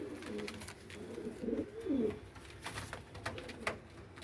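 Fancy pigeons, Teddy, Ferozpuri and Qasuri breeds, give soft, low, throaty coos, with a few rounded calls close by over light background noise.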